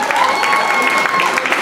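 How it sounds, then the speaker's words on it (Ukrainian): Pub audience at a live show in Rivne clapping and cheering steadily, a continuous wash of applause from a crowd filling the room. "Дуже в'ялі аплодисменти."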